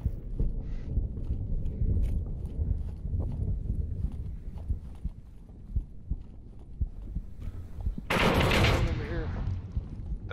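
Gunfire in the virtual reality shooter Onward: scattered sharp shots and rapid bursts over a dense, rumbling battlefield background, with a loud blast of noise near the end.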